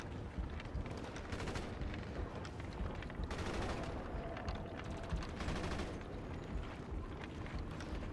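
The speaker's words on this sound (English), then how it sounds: "Oh, miniguns." Sustained heavy gunfire rattles on in a GTA Online match played in first person, a dense, loud barrage of rapid shots with bursts swelling and fading, fitting minigun fire, with no talking over it.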